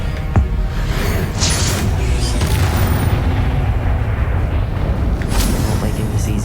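Confringo fire spell blasts in the Hogwarts Legacy video game, a loud, continuous booming roar of explosions and rumbling combat effects filling the whole stretch, with sharper bursts near the start and end and a voice shouting over it.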